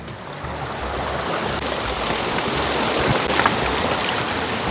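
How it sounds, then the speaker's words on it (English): Steady broadband rush of creek water flowing outdoors, continuous and fairly loud throughout with a slight rise toward the end, no voices present. "I really like creeks too, Brian."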